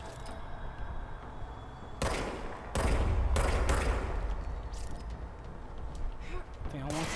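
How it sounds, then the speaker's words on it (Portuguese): Bursts of gunfire aimed at the player in the video game Control, several loud shots clustered in the middle against game ambience, with a voice talking at times. "Alguém tá atirando em mim."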